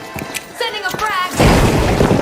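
A frag grenade bursts in a video game: a loud, heavy blast erupts about halfway through and its rumbling roar fills the rest of the clip, following a stretch of voice-like sound.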